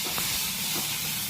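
Hot oil tempering with asafoetida, turmeric and chili gives a short, steady, close hiss and sizzle with no voices.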